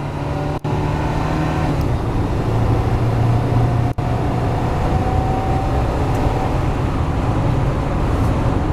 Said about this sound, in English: just a beautiful sounding motor. That Vortec 454